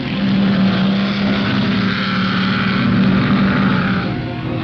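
A 1961 Cooper Maserati racing car at Ardmore Circuit in New Zealand, its engine holding a loud, steady droning roar at close range for several seconds with no break in the sound.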